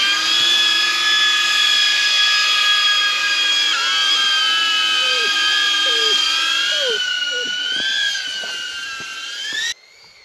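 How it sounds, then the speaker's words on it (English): An FPV drone flies over an ancient ruin landscape, its high whining motor tones steady then shifting in pitch as it banks and turns, before cutting off abruptly near the end. "the FPV drone, using this landscape as sort of like a natural obstacle course"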